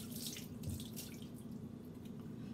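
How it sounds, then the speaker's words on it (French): Tap water running steadily over peas being rinsed in a sink, a soft continuous splashing stream with a low hum underneath. "Là, je les rince au dernier moment."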